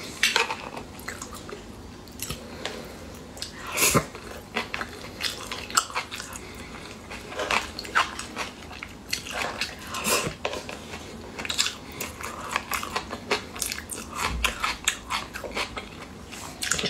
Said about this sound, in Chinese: 这东西挺好吃，嘎吱嘎吱